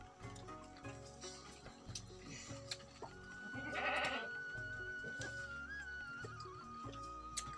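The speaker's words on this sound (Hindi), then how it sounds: "पूरा बकरी चिल्ला रहा है" A goat bleats outdoors on a cold, windy day in the countryside, a drawn-out wavering cry standing out around the middle over a background of other rural noise and faint water.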